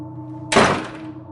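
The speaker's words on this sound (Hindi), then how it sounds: "मैंने झटके से बाथरूम का दरवाजा बंद कर लिया" A bathroom door slammed shut: one sharp, loud thunk that cuts in suddenly and fades over a short tail against a quiet, humming room.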